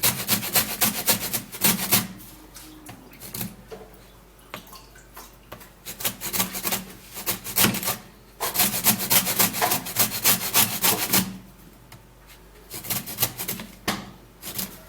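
A lemon is rubbed against a grater to take off the zest, giving repeated rhythmic rasping strokes in bursts with short pauses, close and fairly loud, with no talking.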